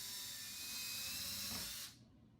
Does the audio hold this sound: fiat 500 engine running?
no